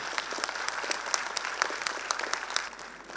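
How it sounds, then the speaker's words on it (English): An audience at a school annual day claps steadily, a crisp irregular patter of many hands that thins slightly near the end. "could we have the applause going?"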